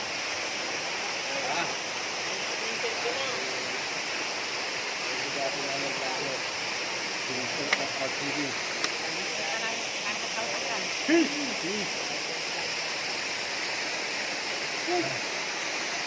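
Continuous rushing water at Tinakayan Falls, a waterfall in western Pangasinan swollen by rain, a steady broadband roar with scattered faint voices and small knocks over it.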